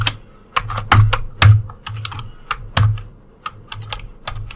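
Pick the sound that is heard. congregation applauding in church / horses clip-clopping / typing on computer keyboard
typing on computer keyboard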